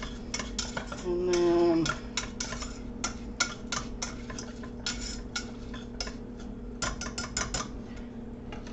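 Funeral potatoes casserole mixed in a baking dish, a utensil scraping and clinking against the dish in a steady run of short taps, with a brief low hum near the start.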